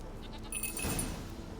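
A goat in The Witcher 3 game lets out a short bleat midway, set against low steady game ambience.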